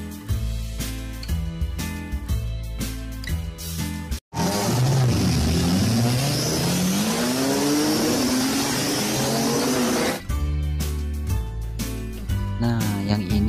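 A toy race car gives a sustained engine-like whine with rising and falling pitch sweeps for about six seconds, set between stretches of loud, steady rhythmic background music.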